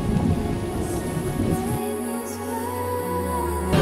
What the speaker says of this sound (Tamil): ரெயின் ட்ராப்ஸ் எல்லாம் மழை பெஞ்சிட்டு இருக்கு.